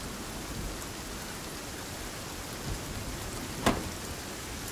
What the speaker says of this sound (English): that rain is torrential